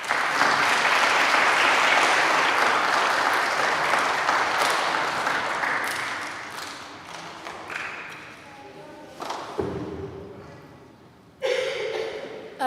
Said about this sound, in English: let's just give these kids a round of applause